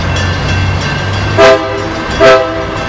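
A train horn sounds in two loud blasts about a second apart over steady rumbling rail traffic nearby, with no talk during the horn.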